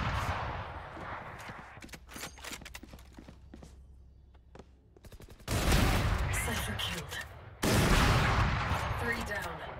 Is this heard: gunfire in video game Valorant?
yes